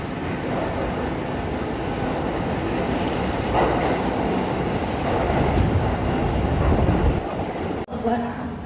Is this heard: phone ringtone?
no